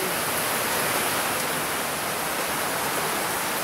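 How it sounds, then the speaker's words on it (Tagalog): Heavy typhoon rain pours down steadily with gusting wind, a dense, unbroken roar filling the whole stretch with no voices. "Ay, grabing lakas ng ulan."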